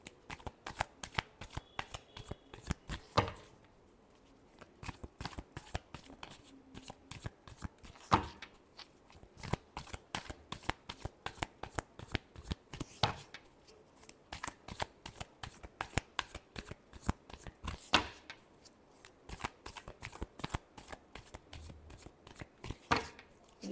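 A deck of tarot cards is riffled over and over, giving close, crisp bursts of fluttering slaps in a steady rhythm with short pauses between shuffles.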